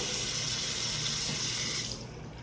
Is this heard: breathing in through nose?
no